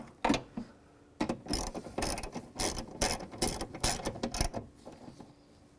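A hand ratchet snugs down the rear window regulator bolts inside the door of a 2005-15 Nissan Xterra, giving close bursts of quick clicking strokes after a short pause, with no speech.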